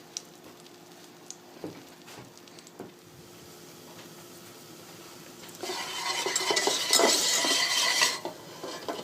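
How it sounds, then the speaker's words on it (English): A butter and flour roux being stirred in a pan with a utensil, soft scraping strokes at first, then louder sizzling and scraping near the end, with no talking. "we start with half a stick of butter and as much flour as that butter will accept to make the roux."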